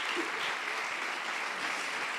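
A church congregation applauds in praise of the Lord, a dense, steady wash of many clapping hands at moderate distance with no gaps.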